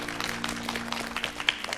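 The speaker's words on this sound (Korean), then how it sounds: "박수 한번 드릴게요" A Korean TV studio audience gives a short burst of clapping, a brief patter of applause over a faint steady hum.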